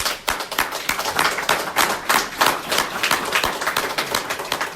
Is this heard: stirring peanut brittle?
no